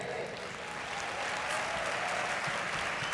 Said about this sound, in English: Thunderous round of applause, please, for Lynne.